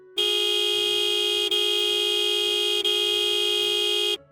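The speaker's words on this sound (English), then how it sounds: "I found this honk sound" Car horn sound effect edited for a game, a steady bright honk held for about four seconds with two brief dips where the loop joins, loud and alone.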